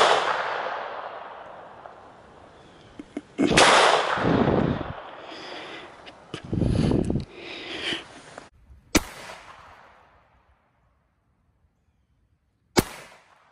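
A Phoenix Arms .22 handgun fires outdoors in a few sharp, close cracks, each snapping loudly and then fading, with handling rustles and quieter gaps between shots and one final isolated pop near the end.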